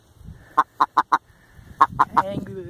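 An angry grouse gives a string of sharp, clucking calls, four in quick succession and then three more after a pause, loud and close, with a voice faintly underneath.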